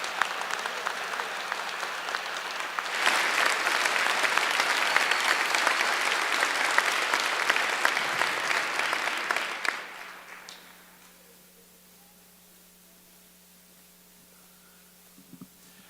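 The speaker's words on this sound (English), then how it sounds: "One huge round of applause for both Gil Magical and Bill Kingsland." A school pops concert audience gives a big round of applause, dense clapping swelling in after a few seconds, holding loud and steady, then fading out into quiet room hum.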